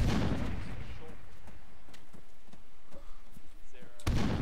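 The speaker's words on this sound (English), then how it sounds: "putting a grenade out before we leave" A frag grenade explodes in a tactical shooter game with a loud, deep boom at the start and another at the end, separated by quieter background noise with a few faint, sharp cracks.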